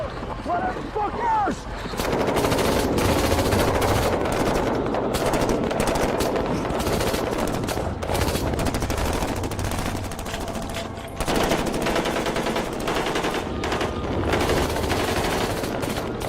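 Sustained machine gun fire in an action film battle scene keeps up a dense, loud, continuous clatter of rapid shots and echoing bursts, broken by a brief lull near the end.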